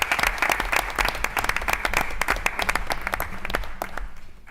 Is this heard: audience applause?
yes